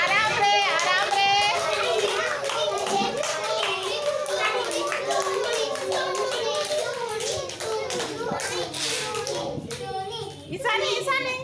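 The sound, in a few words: children clapping hands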